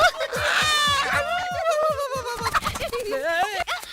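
A chicken squawking and gobbling in rapid, agitated bursts with harmonic cries, loud and close, amid scuffling noises during a chase in a Tamil film scene.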